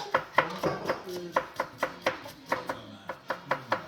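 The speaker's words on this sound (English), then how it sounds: "You see the chef chopping?" A chef's knife chops through pork for Jamaican jerk pork in a steady run of crisp, evenly spaced thwacks on a cutting board, close and clear with no talking.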